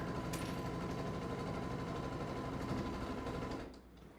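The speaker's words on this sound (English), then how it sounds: "All right, we're gonna sew this final row on here." A sewing machine stitching a final row, running with a steady loud mechanical hum and whir that stops abruptly near the end, and no one speaking.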